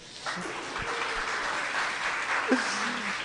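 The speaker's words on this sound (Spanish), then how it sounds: "por favor, un aplauso" A steady wash of applause from a crowd, sustained for a few seconds at moderate volume.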